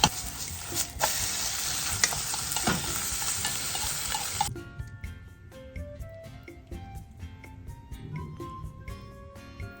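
Tamagoyaki, a rolled egg omelette seasoned with salt and mirin, frying in a pan: a loud, dense sizzle for the first few seconds, then fainter pan noise under a light musical backing.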